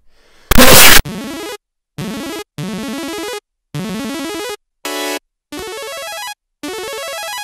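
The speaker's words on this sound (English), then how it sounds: "So now we got this super cool ARP." Synth arpeggio of minor chords programmed in a DAW: rapid rising note runs in short repeated phrases separated by brief gaps, preceded by a loud noisy burst, with one higher buzzy sustained stab near the end.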